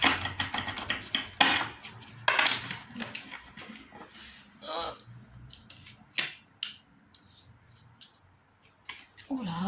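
Tarot cards are shuffled by hand in quick, dry rustling and flicking bursts, close and fairly quiet, coming in clusters with pauses in between while a person talks intermittently.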